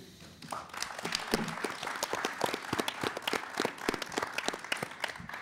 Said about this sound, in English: Let's have a special round of applause for the Bob Bullock Texas State History Museum